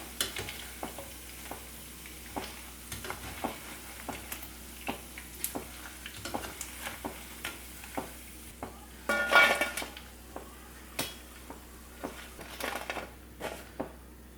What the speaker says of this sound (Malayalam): എല്ലാം ഒന്ന് ഫ്രൈ ആയിട്ട് വരട്ടെ.